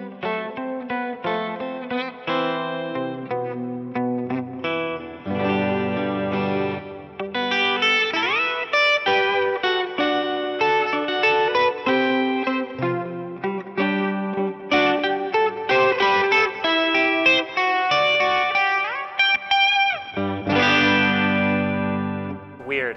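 A PRS Hollowbody 12-string guitar is played through effects in a classical-style melody. The tone is shimmering, distorted and chorus-like, with continuous bright doubled notes and short pauses.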